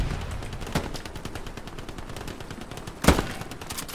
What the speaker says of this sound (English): There's a guy over here on my right fucking shooting at me.